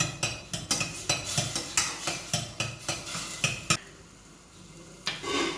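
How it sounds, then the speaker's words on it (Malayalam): Homemade butter churned from curd melts in a cooking pot while a spoon stirs it, giving repeated close scraping clinks against the metal with a soft sizzle beneath. "ഇന്ന് കിട്ടിയ വെണ്ണ കുറച്ചിട്ടു എണ്ണ ഒന്ന് ഉരുളട്ടെ"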